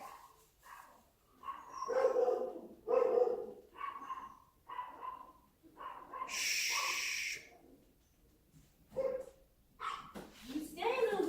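A small dog barks repeatedly in a close, fairly quiet room, with short yappy barks and snorting breaths in an uneven rhythm, mixed with people talking.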